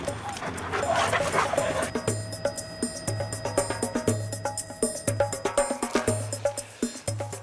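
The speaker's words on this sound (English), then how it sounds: "Dogs have already been tracking for more than an hour." Police tracking dogs bark, yip and whimper eagerly close by, with rhythmic bursts of sharp barking after an hour on the trail, faint voices underneath.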